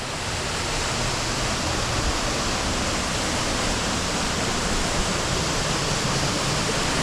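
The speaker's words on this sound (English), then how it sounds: "you can see the waterfall coming down from the top, and then obviously dropping down another 20 feet into the splash pool" A waterfall at Stainforth drops about 20 feet into a splash pool, a constant, full roar of rushing water with no breaks or changes, heard up close and loud.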